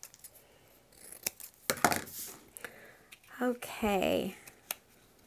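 Scissors cut down a paper template for a lip balm gift box in a few short, close snips and crinkles, followed by a brief spoken word.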